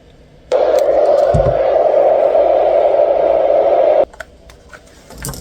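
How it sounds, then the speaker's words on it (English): A small, simple travel white noise machine switches on and runs with a steady mid-pitched hiss for about three and a half seconds, then cuts off abruptly into quiet room sound. "this is actually a very small, simple travel white noise machine"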